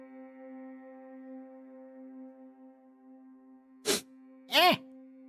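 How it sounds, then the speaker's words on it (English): A sneeze cut in over a steady synthesized drone and soft background music from an ESO gameplay session, two sharp broadband bursts close together near the end. "If I don't sniffle, then I'll sneeze again."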